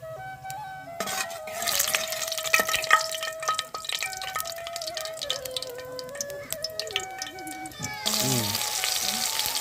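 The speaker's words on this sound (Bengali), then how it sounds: "এবার আমি এতে দিয়ে দেবো কালো জিরে ফোড়ন" Black cumin seeds tempering in hot oil for Bengali hilsa fish curry, a steady sizzle and crackle with faint background tones and a louder burst of frying near the end.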